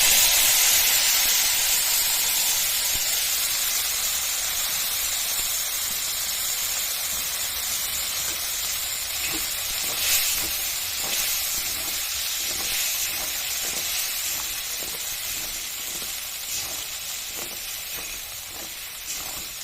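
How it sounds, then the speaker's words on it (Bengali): A ground paste of tomato, cashew, melon seeds and poppy seeds fries in hot oil, giving a loud bright hiss that slowly fades, with light rhythmic stirring taps later on and no talking. "এবার এই বাটাটা দিয়ে দেবো তেলের মধ্যে"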